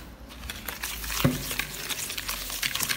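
Eggs and sugar whisked together by hand for honey sablé biscuit dough, a close, continuous scratchy swishing with light clicks and one brief clink against the bowl.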